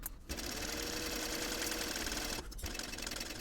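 A sewing machine bastes purse panels together, whirring in a fast, steady mechanical run with a brief pause near the end, close and fairly quiet.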